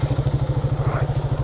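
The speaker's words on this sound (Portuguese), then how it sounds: "deixa eu só encostar a moto aqui um pouquinho" A motorcycle engine runs at a steady idle with a regular low thumping pulse while the bike is being parked, close and fairly loud, with no talk over it.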